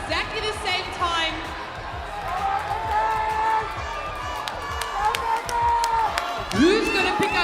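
Spectators at a CrossFit qualifier competition yelling and whooping at competitors from a distance, heard under close announcer commentary with scattered cheers and claps.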